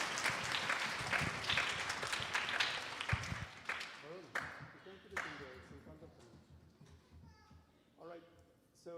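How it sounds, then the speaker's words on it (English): An audience at a Vasant Navratri gathering applauds for a few seconds, clapping fading gradually into scattered claps and room noise while voices and children murmur underneath. "Please give them all a big round of applause"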